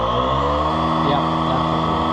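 A truck engine is revved hard, holding a loud, dense roar with strong layered harmonics heard close up, steady and unbroken throughout.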